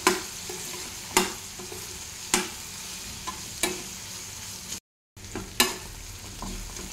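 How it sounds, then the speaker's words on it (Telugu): Ridge gourd egg curry fries in oil in an open pan, a steady sizzle punctuated by sharp spatula scrapes and knocks every second or so, close up, with a brief dropout near the end and no voices. "మూత తీసేసుకొని మధ్య మధ్యలో కలుపుతూ ఉండాలి, లేదంటే అడగంటుతుంది"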